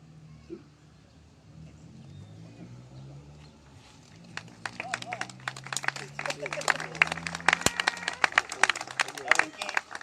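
A live audience at a talk in Rivera breaks into applause about halfway through, its dense clapping building after a stretch of quiet murmur and voices.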